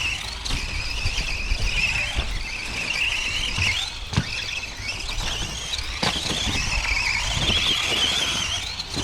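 A Tamiya TT02B radio-controlled car with an upgraded electric motor runs around an outdoor track, its high motor whine rising and falling as it speeds past, with scattered thumps and tire scuffs as it corners.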